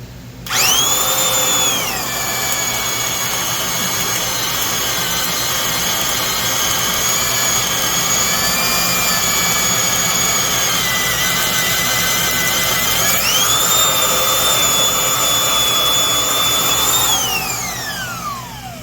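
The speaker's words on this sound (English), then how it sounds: "that's exactly how a nice sharp self-feed bit should work. Just goes right down through the hole" A drill runs steadily while boring into wood with a sharpened self-feed auger bit, its motor whine holding a strong constant pitch for about twelve seconds, then rising briefly before winding down at the end.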